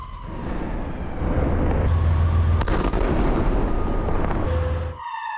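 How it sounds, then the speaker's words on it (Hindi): Heavy rumbling blasts and roar from an Israeli phosphorus bomb attack in Blida, south Lebanon, a sustained loud thundering with sharp cracks midway before it cuts off abruptly. "दक्षिण लेबनान में इजरायल का हमला, फास्फोरस बम से किया हमला"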